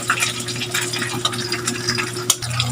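Steady sizzling and crackling of food frying in a pan, with occasional louder pops over a low hum.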